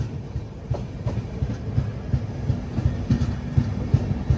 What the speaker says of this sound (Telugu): కుప్పం రైల్వే స్టేషన్లోనే ఆగుద్ది మన ట్రైన్